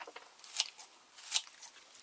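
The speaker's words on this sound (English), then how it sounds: "And to do that, I just use these kitchen scissors" Kitchen scissors snip through fresh cilantro inside a truck camper kitchen, two sharp crisp cuts with lighter rustling snips between them, close and clear with no talking.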